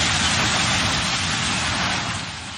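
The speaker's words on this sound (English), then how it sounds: "that's the sound of a mechanical excavator demolishing the National Theatre building in the Albanian capital" A mechanical excavator tears down the National Theatre building in Tirana, Albania, producing a continuous loud wash of crunching, rumbling debris noise with no voices.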